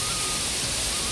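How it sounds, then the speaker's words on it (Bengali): A waterfall in the hills roars as a dense, steady, even rush of water, loud and unbroken for the whole moment. "চারিপাশে কিন্তু ঝর্ণার আওয়াজ"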